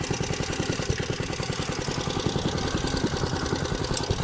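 A Staub PPXS6 two-wheel tractor with a Bernard W239 engine running in reverse gear, a loud, close, steady chugging idle with rapid regular firing pulses throughout.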